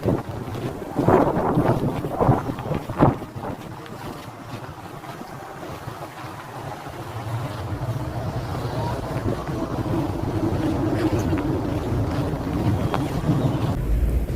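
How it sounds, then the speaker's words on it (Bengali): Strong, very cold wind buffets the microphone in a constant roar during heavy snowfall at -8°C in St. Petersburg, Russia, with a few louder gusts and thumps early on. "দেখতে তো চরম লাগছে কিন্তু সাংঘাতিক ঠান্ডা হাওয়া"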